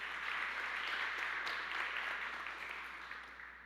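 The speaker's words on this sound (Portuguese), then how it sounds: "Se você crê na sua oração, aplauda muito forte o nome de Jesus." A church congregation applauds strongly, a dense sustained wash of clapping that holds steady and then slowly fades toward the end.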